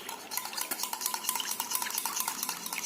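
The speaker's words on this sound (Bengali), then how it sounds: "এটা দিয়েও কিন্তু আমাদের খুব সুন্দর করে মিশিয়ে নিতে হবে যাতে গন্ধটা চলে যায়" A spoon stirs steadily around a bowl of pudding mixture made with egg and vanilla essence, giving quick, continuous clinking and scraping that stays close and fairly loud with no talking.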